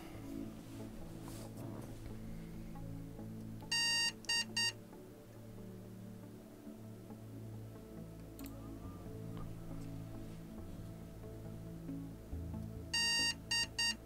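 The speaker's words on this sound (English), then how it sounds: "that must be a different beep code to last time" A computer motherboard sounds a beep code on a failed boot: two bursts of short, loud, high electronic beeps in quick groups, heard over a steady low hum of background noise.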